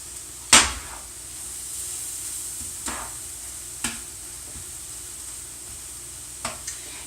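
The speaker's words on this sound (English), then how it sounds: "We're just stirring it around." Matzo brei frying in a pan while being stirred: a faint steady sizzle with a few sharp scraping clicks of a utensil against the pan, alone and without talk.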